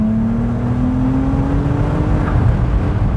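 A Ferrari 296 GTS revs hard and pulls away, a loud, steady engine note rising slowly in pitch over about three seconds with no pause.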